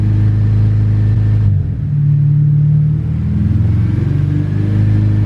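A Honda K24 engine idles slightly high in an Acura Integra on a dyno, a loud, close, steady low rumble with a brief dip and a slight wavering of pitch, no voices.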